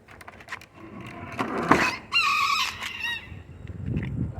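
Hens cluck, one giving a brief drawn-out crowing call, moderately near, among light background noise.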